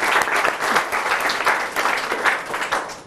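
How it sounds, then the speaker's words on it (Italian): A crowd applauds a swimming coach at an Italian sports gathering, steady close clapping that continues for the whole stretch with no voices standing out. "un applauso anche per questo"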